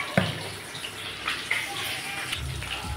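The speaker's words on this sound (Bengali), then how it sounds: "দিয়ে নিচ্ছি সামান্য জল।" A small splash of water is poured onto ground white and black mustard seeds, green chillies and salt for a spice paste, a faint watery gush over a low kitchen hum.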